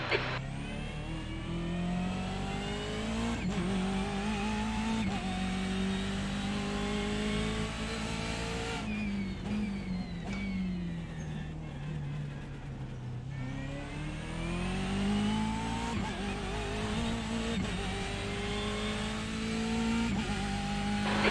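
BMW M8 GTE race car in iRacing at Sebring, its engine droning loudly and steadily throughout, with rising and falling revs, upshifts and a dip in pitch as it slows for a corner before accelerating again.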